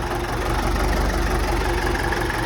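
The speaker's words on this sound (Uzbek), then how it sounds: "Yurib turgan traktor." A YuMZ tractor in good running condition idles steadily, its low, even engine throb continuing unbroken and close by with no talking.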